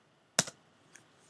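Typing on a computer keyboard: a quick double click of keystrokes followed by one fainter tap, close and crisp in an otherwise quiet room.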